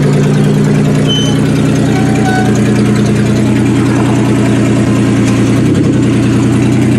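A car engine from a quick build project runs loud and close in a steady, rumbling idle, with a brief dip near the end. No voices are heard.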